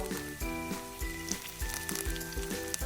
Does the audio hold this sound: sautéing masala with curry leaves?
yes